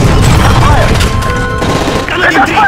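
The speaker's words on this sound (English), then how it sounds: "That's gunfire!" Dense gunfire and explosions crackle in a Call of Duty Modern Warfare 3 mission, loud overlapping bursts with shouting voices mixed in throughout.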